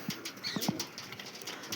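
Pigeons in a loft, including black pigeons, give a few soft coos and short wing flutters close by, with scattered chirps against a quiet background.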